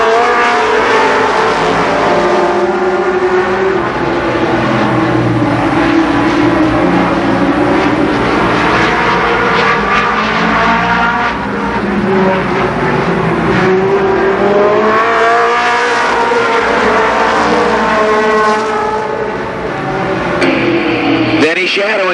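Midget race cars roar around the Columbus Motor Speedway oval in a loud, continuous pack, engines rising and falling in pitch as they pass, with an announcer talking over the racing throughout.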